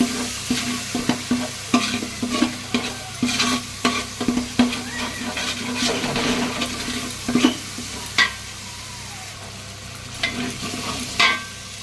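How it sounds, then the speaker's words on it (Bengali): Masala of Kashmiri chili, cumin powder and tomato paste stir-fried in a pan for mutton biryani, with a soft constant sizzle broken by repeated sharp scraping strokes of a spatula, close and alone. "দিয়ে আমি এটা একসাথে মশলাটা কষাবো।"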